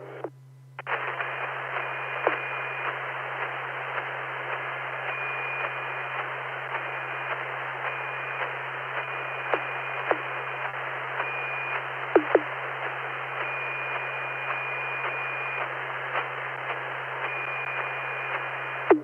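A steady hiss of radio static on an amateur radio net with a constant low hum, broken by occasional clicks and faint tonal whines, as though a transmitter is keyed open.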